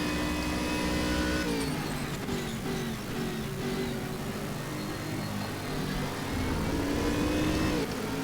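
A GT3 race car in Stock Car Extreme drifts through turn one at the Red Bull Ring, its engine a loud, continuous droning whine that rises and falls in pitch, with no voices.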